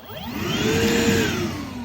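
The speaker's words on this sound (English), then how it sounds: "Cordless vacuum up here." A cordless vacuum cleaner mounted inside a 14-foot U-Haul box truck contractor build-out runs close by with a steady, high whining drone that rises slightly in pitch before easing off.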